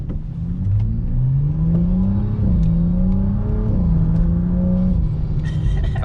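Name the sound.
BMW 435i engine revving after CTS turbo intercooler install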